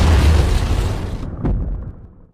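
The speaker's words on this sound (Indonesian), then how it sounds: "ledakan dari torpedo pun terjadi." A loud, deep torpedo explosion near a submarine rumbles heavily, with a second thud partway through, then the roar fades away.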